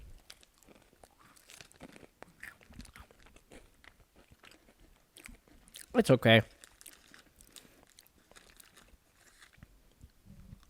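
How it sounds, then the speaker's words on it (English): A crunchy mixed berry snack, strawberry-looking, is bitten and chewed close to the mic in one loud burst of crunching lasting under a second, with soft talk before and after. "Peep the crunch."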